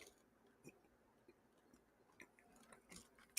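Someone chews Halls cough drops close to the microphone, giving quiet, irregular crunching and clicking bites scattered through a near-silent stretch with no talking.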